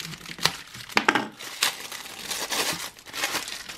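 Plastic parcel bags crinkle and rustle while being unpacked, in bursts of sharp, close crackles, with a few louder crunches and a steady rustling texture throughout.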